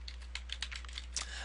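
Quick, light clicks of a computer keyboard as someone types, a short irregular run of keystrokes heard close under a steady low hum.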